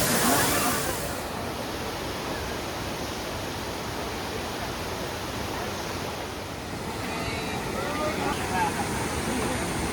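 Steady broadband roar of the Dhangar waterfall near Badlapur, water crashing down over rocks, continuous and fairly close throughout with no voices.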